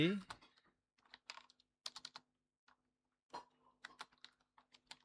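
A computer keyboard is typed on in short, quiet bursts of clicks separated by pauses, close by in a quiet room.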